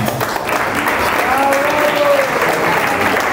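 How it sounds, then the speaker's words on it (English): Steady applause from a crowd at a christening celebration fills the whole stretch, dense and even, with a faint whistle-like tone rising briefly in the middle. "Another round of applause for the dad and the godfather."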